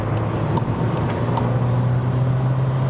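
Skoda Rapid Spaceback Monte Carlo with a 1.4 TSI engine accelerating, heard from inside the cabin as a steady, loud engine drone with a firm low tone over road rumble.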